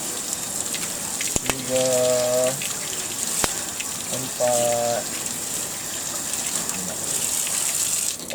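Water pours for sertu ritual washing in an industrial demonstration, a broad splashing gush that runs throughout, with two short electronic beep sequences and a couple of sharp clicks, while a voice briefly counts.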